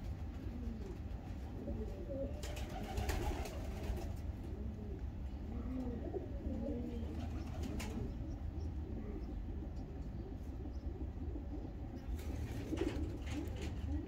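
A female pigeon kept at home as a breeding bird coos in low, repeated throaty rolls. The cooing runs steadily throughout and sounds close, with faint background voices.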